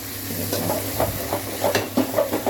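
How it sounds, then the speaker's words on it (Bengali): A pan of chicken with ground spice paste sizzles and hisses up close while a utensil scrapes and stirs through it in uneven strokes. "চিকেনটা এখন একটু ভাজা ভাজা করে একদম কষাচ্ছি"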